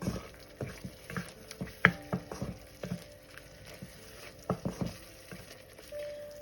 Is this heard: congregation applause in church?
no